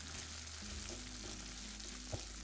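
Finely chopped onions fry in a pan with black cumin for a peyajkoli dish, a soft, faint sizzle under a steady low hum, with a single small click near the end and no speech.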